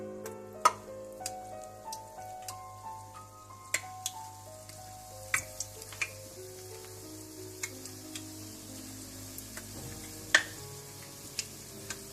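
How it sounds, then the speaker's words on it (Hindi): Pakoras fry in hot oil with a soft steady sizzle, broken by sharp scattered pops and crackles every second or two, close and alone with no voices. "इसके बाद आप तेल गरम कर लें और पकोड़े बना लें।"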